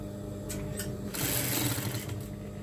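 An electric sewing machine runs steadily while hemming an apron, a continuous close mechanical whir with brief bursts of faster stitching.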